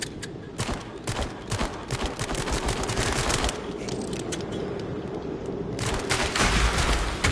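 Rapid gunfire fills the horror rail-shooter VR game Switchback VR, dense bursts of sharp, loud shots repeating fast over several seconds with brief gaps, up close and without talk.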